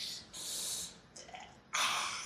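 A voice imitates gasping, swallowing air and belching, giving three breathy, rasping bursts close to the microphone with short gaps between them.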